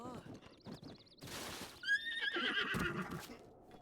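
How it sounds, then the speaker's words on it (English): A horse neighs and whinnies in the Zelda: Breath of the Wild video game, several high shrill calls near and loud, with clip-clop hooves and game sounds around them. "only to discover it was my own horsey"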